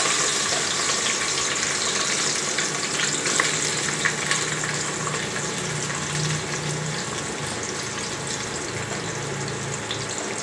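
Onions with fenugreek frying in hot oil, a steady close sizzle and crackle running without pause for the whole stretch, with faint stirring and no voices.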